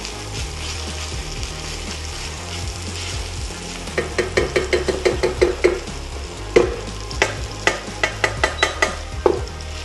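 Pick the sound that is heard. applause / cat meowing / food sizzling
food sizzling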